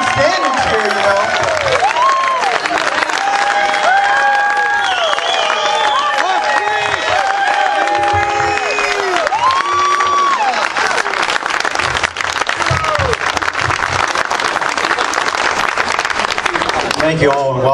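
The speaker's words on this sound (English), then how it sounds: "Y'all can stand and cheer, you know." A large crowd at a political cook-out stands and applauds, dense continuous clapping mixed with loud cheers and whoops, sustained and steady throughout with voices shouting inside the roar.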